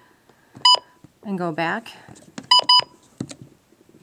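Short electronic button beeps from a NOAA weather radio being programmed, two bursts of paired tones with a voice speaking between them.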